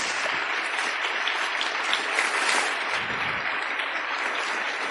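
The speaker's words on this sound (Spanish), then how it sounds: "yo también quiero pedir un aplauso para él especialmente" Audience applause at a book and culture event, a steady, dense patter of many hands clapping at constant loudness throughout, with a low hum underneath.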